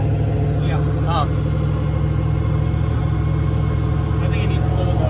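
A Chevy Blazer rock crawler engine on 42-inch Maxxis tires runs with a steady low rumble throughout, close and continuous, while people talk over it.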